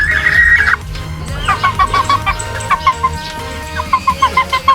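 About three-month-old chicks cluck repeatedly in short rhythmic bursts over a busy farmyard background, with a higher bird call at the start.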